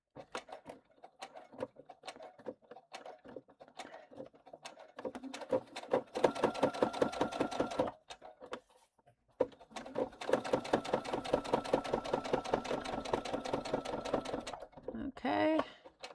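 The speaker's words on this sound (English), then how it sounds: "we're going to backstitch really well here because it's going to get some use" Sewing machine backstitching a seam on a River Walker bag, rapid rhythmic needle clatter in two sustained bursts after slower individual stitches, fairly close with pauses between runs.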